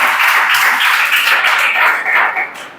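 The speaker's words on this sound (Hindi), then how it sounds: "ताली बजाओ ताली" A classroom of students clapping their hands together in a dense burst of applause, loud and close, lasting a couple of seconds before tapering off.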